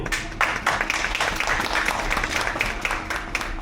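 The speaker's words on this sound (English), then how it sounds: "Round of applause, everybody." In an Icelandic lava-melting demonstration venue, a small audience claps steadily for the lava melter, a moderately loud patter of applause lasting a few seconds.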